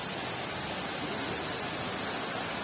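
A muddy yellow waterfall pours at the Mendelikha waterfall park near Rosa Khutor in Krasnaya Polyana, making a steady, fairly faint, even rushing roar with no voices.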